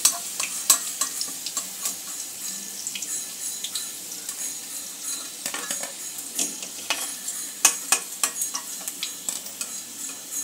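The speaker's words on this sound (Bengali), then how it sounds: "চিকেনগুলো ভাজা হয়ে গেছে" Boiled chicken fries in a pan with a steady close sizzle, broken by repeated scraping and clinking strokes of a spoon or spatula stirring against the metal, with no talking.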